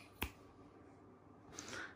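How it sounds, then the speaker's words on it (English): Two finger snaps in a quiet room, a sharp close one near the start and a softer one later, with faint background hiss between. "Can you snap your fingers and make it work?"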